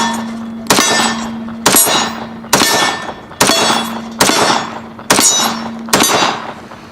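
Seven shots from a Remington R1 1911 Government model .45 ACP pistol, each a loud sharp crack followed by a steel target ringing and decaying, fired at a steady pace about one second apart with no talk.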